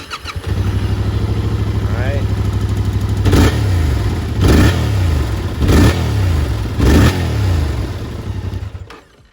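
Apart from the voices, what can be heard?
motorcycle stock exhaust startup and revving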